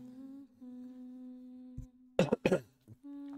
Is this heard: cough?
yes